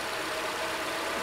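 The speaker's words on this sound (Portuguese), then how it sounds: "O motor trabalhando." A Honda Civic engine idles after a valve and injector adjustment with a steady, even hum that stays close and constant throughout, with no voices or other sounds.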